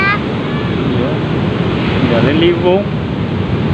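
Big ocean waves roll loud and close at Karapyak beach in Pangandaran, a continuous roar of surf with wind buffeting the microphone and a brief voice speaking over it.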